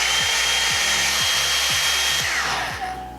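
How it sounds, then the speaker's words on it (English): A Hot Tools One-Step Blowout hair dryer brush runs with a loud, steady whooshing whine, a faint rhythmic rubbing pulse beneath it, then powers down and fades out at the end. "It just sounds like a hairdryer to me."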